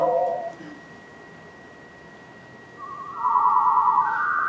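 Spooky synthesized tones generated from fingerprint data: a thin steady high whine runs throughout while short warbling electronic chirps sound at the start and a louder wavering tone swells in near the end, with a faint murmur of talk underneath.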